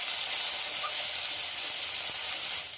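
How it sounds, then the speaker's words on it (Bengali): Potato and jackfruit seeds frying in a pan, a steady bright sizzle and hiss that stays even throughout, close and alone. "এবার আলু কাঁঠালের বীজ খুব ভালোভাবে ভেজে নেব।"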